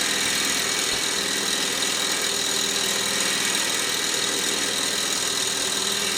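Mamod Showman's Special model steam traction engine running steadily, a continuous even mechanical chug and hiss heard close up with no talking.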